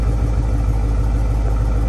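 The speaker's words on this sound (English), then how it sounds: "It's got a good rumble to it." A steady, low engine rumble from an idling 2019 Dodge Durango R/T with a Hellcat supercharger build, loud and close at the exhaust, holding even without revving.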